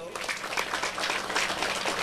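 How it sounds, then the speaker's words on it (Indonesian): Applause from an audience honouring a lieutenant general at a sugarcane farmers' gathering in Indonesia, a dense steady wash of many hands clapping throughout with voices mixed in. "tepuk tangan untuk beliau"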